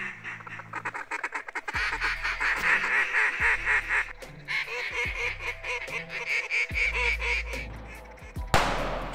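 Rapid series of loud duck calls quacking in bursts during a timber duck hunt, raspy calls repeating rhythmically with brief pauses, close and prominent throughout.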